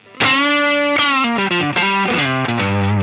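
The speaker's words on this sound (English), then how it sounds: "Tube screamer. Bit more gain." An electric guitar through a Tube Screamer overdrive modelled on a Line 6 Helix plays a short melodic phrase, loud and close, with a gritty, saturated tone sustaining each note.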